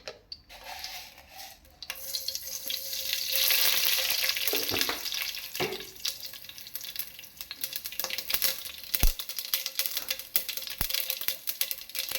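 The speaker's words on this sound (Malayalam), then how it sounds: "കടുക് പൊട്ടിക്കഴിഞ്ഞു." Mustard seeds fry in hot oil for a Kerala papaya elissery, giving a soft, continuous sizzle dotted with scattered sharp pops and crackles.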